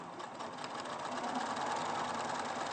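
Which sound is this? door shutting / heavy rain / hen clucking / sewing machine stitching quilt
sewing machine stitching quilt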